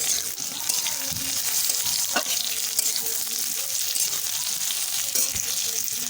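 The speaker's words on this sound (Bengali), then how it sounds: "আলু টমেটো ভালো করে ভাজা হয়ে গেছে" Potatoes and chopped tomatoes fry in a pan, a constant close sizzle broken by occasional scraping stirs and soft clinks.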